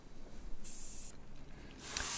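A rattle can of flat black enamel spray paint, sprayed as a guide coat on a rudder plug, gives two short, close hissing bursts separated by a pause.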